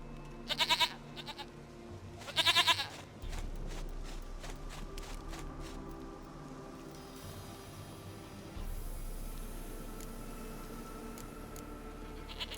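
Goat bleating in the video game The Witcher 3, two loud quavering bleats in the first few seconds, followed by quieter ambient game sounds and footsteps.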